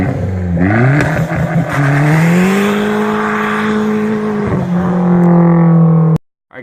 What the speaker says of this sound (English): This man is about to redline it so hard.